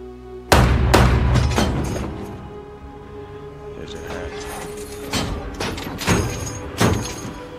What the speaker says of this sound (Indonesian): tentara Jerman menjatuhkan granat ke dalam tank